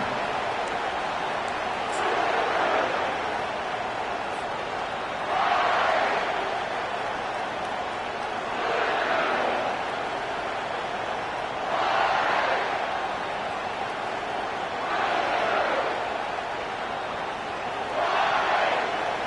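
Stadium crowd at a football game roars in steady waves, swelling and dipping every few seconds as a broad continuous din with a voice over it.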